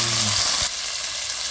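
Tomato and ginger hit a hot frying pan, giving a loud, close, steady sizzle and hiss that continues on its own without talk.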